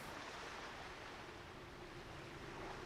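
Faint, steady wash of crashing surf and waves in the World of Warcraft game world, a continuous soft roar with a touch of wind and no voices.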